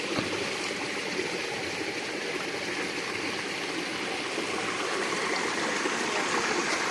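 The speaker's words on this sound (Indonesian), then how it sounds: "Biar airnya mengalir deras ya" Water rushing strongly through an irrigation channel, a steady, dense broadband roar that stays constant and close throughout with no voices.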